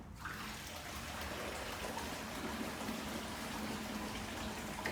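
Water drains out of a Bunn Ultra 2 drink machine as a faint, steady trickle and gush that continues unbroken throughout.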